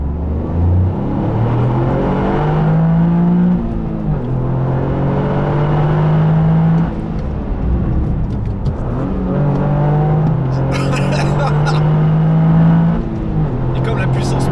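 Toyota GR Yaris, a 261-horsepower all-wheel-drive hatchback, accelerating hard in second gear, its engine note climbing steadily in pitch through repeated rising sweeps, with a person talking over the loud engine throughout.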